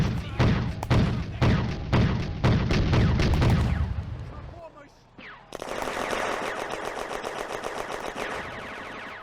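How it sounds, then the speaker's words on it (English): Machine-gun suppressing fire from an Sd.Kfz. 231 armoured car in a World War II game set in a town square: heavy rhythmic bursts, a short pause, then a long rapid stream of shots, with narration over the firing. "the Sonderkraftfahrzeug 231 puts suppressing fire into the town square"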